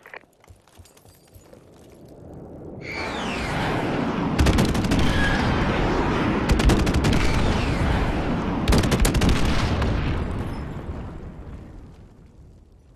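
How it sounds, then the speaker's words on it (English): Friendly airstrike explosions rip through a Modern Warfare Remastered multiplayer match, a dense rumbling barrage that swells in after a quiet start and stays loud, punctuated by sharp cracking bursts, with no talking. "Friendly airstrike on the way."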